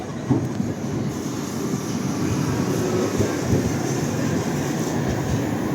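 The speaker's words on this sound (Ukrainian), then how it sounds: "А на зустріч їде новенький львівський трамвайчик." A new tram from Bern rolls past close by on a Lviv street with a steady rumbling, rattling roar and faint wheel clatter, holding loud for several seconds.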